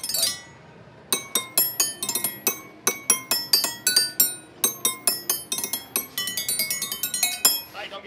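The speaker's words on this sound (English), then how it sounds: "pitching these different wrenches to give us what feels like an octave of sounds" Wrenches struck in quick succession ring out as bright, bell-like pitched notes spanning about an octave, forming a rhythmic, melodic run of many sharp clinks.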